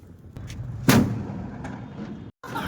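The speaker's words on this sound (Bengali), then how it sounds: "এইটা হচ্ছে বোমের সাইজ এটা এখন ফাটানো হবে ফাটাও" A firecracker bomb set off outdoors during Kali Puja festivities gives one sharp, loud bang followed by a decaying rumble and scattered debris sounds, after a few softer knocks, with no talking.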